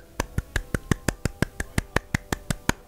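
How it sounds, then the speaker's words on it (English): A single person gives a slow golf clap, about fifteen crisp, evenly spaced claps in a steady rhythm, heard close and alone with no talking over them. "Golf clap."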